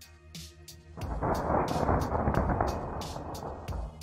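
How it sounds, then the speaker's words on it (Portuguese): Lightning discharge striking a Soyuz rocket: a sharp crack followed by a long, loud rolling thunder rumble lasting several seconds, with rain-like hiss and clicks around it. "Veja como uma descarga elétrica ataca um foguete Soyuz."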